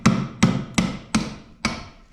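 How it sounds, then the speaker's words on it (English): A hammer taps a part on a drill press five times in an even rhythm, each strike a sharp, close metallic knock with a short ringing decay, and no talking. "I'm going to tap it with my"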